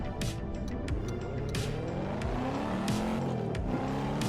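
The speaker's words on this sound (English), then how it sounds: "We're gonna use the handbrake here. We're gonna make an illegal turn." Car in a driving video game swinging through an illegal turn on the handbrake, tires squealing in sharp pitched streaks over a steady engine drone, with several short bursts and slides across the stretch.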